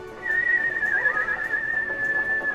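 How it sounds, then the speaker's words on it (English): A single sustained whistle rings out clearly, holding a steady high pitch with a slight wavering in the middle, close and prominent over a quiet background. "everyone can kind of hear this whistle again"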